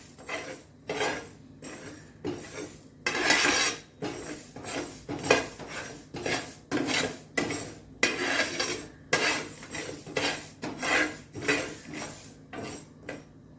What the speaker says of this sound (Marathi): तर आता आपल्याला हे बारीक गॅसवरती 3 ते 4 मिनिटं भाजून घ्यायचे